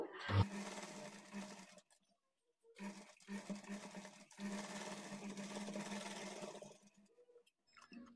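A sewing machine runs in bursts while stitching a blouse, its steady motor hum and rapid needle rhythm broken by short pauses between seams, close and fairly loud with no voices.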